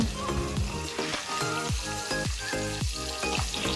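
Cut potatoes tipped into hot oil already tempered with whole garam masala and cumin seeds, giving a steady, close sizzle of frying that runs unbroken, with regular low thumps and clatter beneath it.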